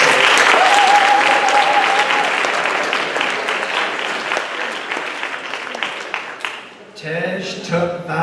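A school spring sports assembly crowd breaks into loud sustained applause that gradually thins and fades, with a voice briefly speaking near the end.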